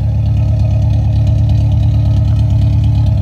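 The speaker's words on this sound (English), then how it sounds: "Why does this car sound camped?" A car engine idling steadily after its exhaust leak bolts were tightened, a loud, close, continuous low rumble with a rapid pulsing throb and no voices.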